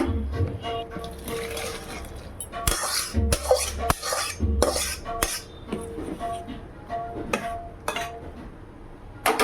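Dishes, pots and pans are washed in a home kitchen: irregular clanks, clinks and scrapes of metal and crockery, with running water between the knocks, close and fairly loud.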